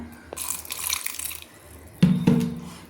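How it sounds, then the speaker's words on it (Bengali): Water is poured into a blender jar over green chilies, with a soft splashing pour followed by a louder, closer gush near the end. "তো একটু প্রয়োজন মতো জল দিয়ে দিলাম"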